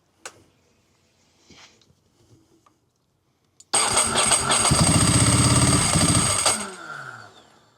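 A Ducati motorcycle engine cranks and fires up after a few quiet clicks and handling noises, then settles into a loud, steady, lumpy idle close by for several seconds before dropping off somewhat.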